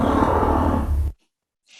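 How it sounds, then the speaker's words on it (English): A hen gives a close, loud roost call: one long, harsh, growling sound lasting about a second. Silence follows, then a faint, brief squeak. "The other follow me call is a roost call"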